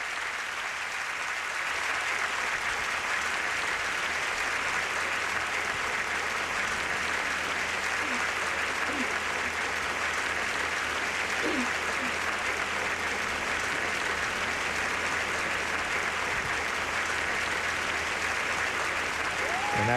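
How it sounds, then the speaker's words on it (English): A packed crowd at the National Stadium in Singapore gives a standing ovation during the 2004 National Day Parade, a loud, unbroken roar of applause sustained throughout with faint cheers mixed in. "The National Stadium here still giving the Prime Minister a rousing standing ovation, rousing round of applause here."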